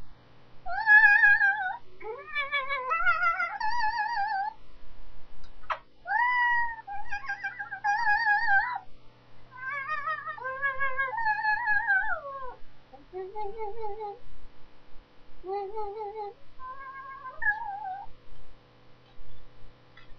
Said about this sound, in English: A similar technique is used for a new form of artistic expression: cat yodeling.